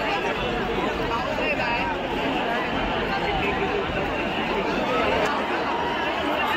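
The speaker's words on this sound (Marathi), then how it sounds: "गर्दी भरपूर वाढली" Large crowd chattering at a Ganesh arrival procession in Parel, Mumbai, a dense continuous babble of many voices, steady and close all around.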